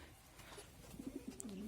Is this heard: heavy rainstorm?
no